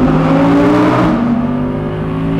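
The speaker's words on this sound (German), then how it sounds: "Die Tunneldurchfahrt. Hier ist er." An Audi R8 V10 Performance Spyder with a 620 PS ten-cylinder engine drives through a tunnel, its loud, booming engine note echoing steadily close by, the roar dipping slightly after the first second.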